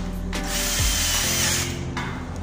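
A power drill drives screws into a metal stud while building a fiber cement board flower cooler: a loud, steady motor whine runs for about two seconds, briefly dipping in pitch as the screw seats.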